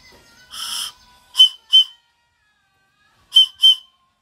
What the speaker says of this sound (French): J'ai fait un sifflet.